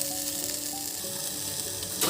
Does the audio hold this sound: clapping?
no